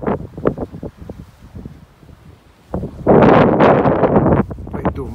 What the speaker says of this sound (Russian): А тут еще ветер.